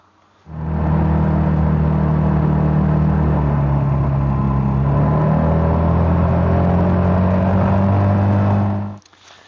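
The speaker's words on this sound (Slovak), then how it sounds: "Čo sa týka samotného zvuku, tak ten je podľa mňa na motorku z tejto doby dostatočný." A Honda ADV 350 scooter engine running at a steady idle, a loud continuous low hum with even pitch that starts abruptly and cuts off near the end.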